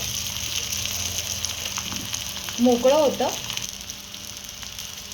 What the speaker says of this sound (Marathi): लगेच याच्यावरती थालपीठ सोडून घ्यायचंय